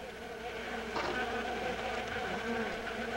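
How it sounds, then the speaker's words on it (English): A swarm of bees from a rainforest hive buzzing in a dense, continuous drone with overlapping wingbeat tones, close and steady without pause. "The rest of the hive is returned to the forest, where the workers will create a new queen."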